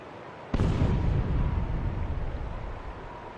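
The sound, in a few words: gunshot in the video game Yakuza 5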